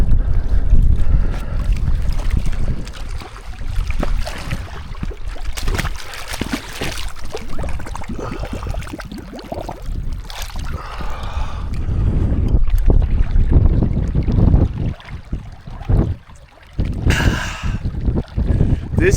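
Strong, gusty wind buffets the microphone beside a frozen lake in cold Scottish hills, roaring steadily with louder surges, and a voice talks briefly through it.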